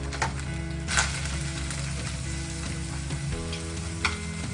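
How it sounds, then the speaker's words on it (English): White onions sizzling in a pan, a steady frying hiss under a low background hum, with a few sharp utensil clinks, close and without speech. "So I'm gonna put in white onions into this."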